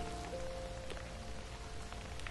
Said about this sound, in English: oh wait, it's raining again